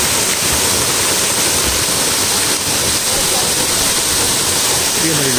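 Ragatan Falls in Maragondon crashes down as a steady, loud broadband roar of falling water that fills the whole clip without a break.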